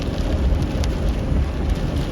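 Steady rain from a thunderstorm beats without a break on a window and the surfaces nearby, a dense, even hiss that carries on throughout with no voices.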